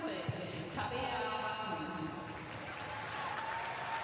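Stadium crowd applauding the player of the game at a Germany versus Serbia women's World Cup qualifier, a faint, distant, steady clapping under a commentator's voice.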